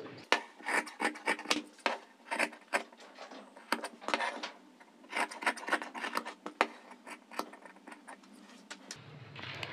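Scissors cut fabric for a maxi dress in a run of close, crisp snips and rasps that come in bursts with short pauses, heard alone.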